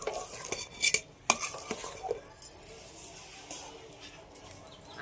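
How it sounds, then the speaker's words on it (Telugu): A utensil stirs peanuts in a metal pan, making uneven clinks, scrapes and rattles that come in bursts and then settle into softer stirring, with no clear speech. "పల్లీలు మొత్తం వేసేసుకొని కలిపేసుకోవాలి"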